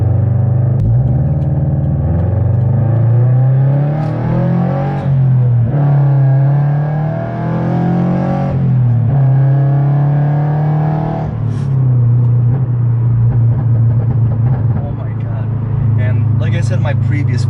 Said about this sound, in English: you do get that classic Subaru rumble